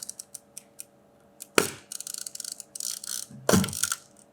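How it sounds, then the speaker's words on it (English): Film advance lever being wound on a Mamiya C330 twin-lens camera, producing a series of small ratcheting clicks followed by two louder, longer winding strokes of rasping gear noise, close and isolated. "use the lever just to wind round, to wind on to our first frame"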